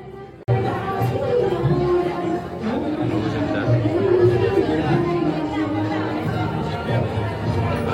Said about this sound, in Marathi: प्रचंड अशी गर्दी असते.